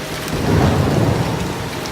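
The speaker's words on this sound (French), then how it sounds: "En se condensant, ces nuages donnent de la pluie." Steady rain falling, a dense broadband hiss with a low rumble underneath, continuous and fairly loud with no voices.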